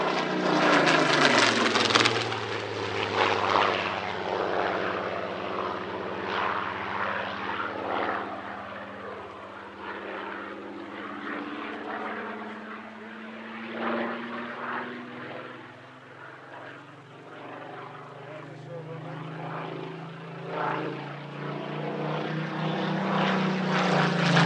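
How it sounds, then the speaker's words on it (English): A Supermarine Spitfire Mark XIV roars through a flying display at an airshow, its piston engine drone loud and sustained for the whole span, pitch sliding lower as it passes and then swelling again, with no talk. "A Mark XIV Spitfire in simply glorious skies at one of the most intimate airshow venues in the world"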